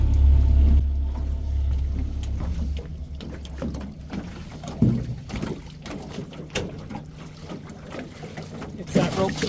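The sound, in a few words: small boat being rowed back in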